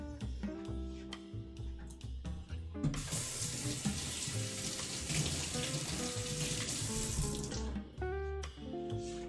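Tap water runs steadily into a pan of dirty rice cooked in chicken stock, a broad rushing splash lasting several seconds, with sizzling and clinks of cookware before and after.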